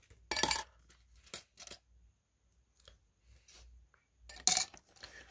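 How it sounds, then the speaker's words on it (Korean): Coins are handled and dropped while being sorted by year, giving sharp metallic clinks and jingles in a few separate bursts, with quiet gaps and softer taps between them, close up and with no talking. "여기서는 그냥 일반 동전들이죠"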